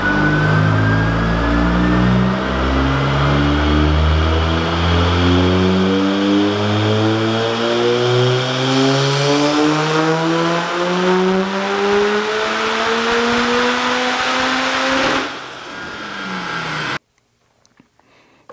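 A Mazda RX-7 project car is revved on a dyno, its engine note climbing steadily in pitch through one long, loud pull for about fifteen seconds before cutting off abruptly into near silence.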